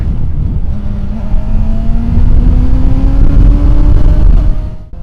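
A Honda Hornet 600 motorcycle engine rumbles loudly and revs steadily upward in pitch for several seconds, then cuts off abruptly; close and continuous.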